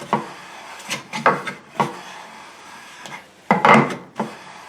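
A $25 imported jack plane shaves wood in repeated short strokes, each a close rasping swipe, with a longer, louder pass near the end.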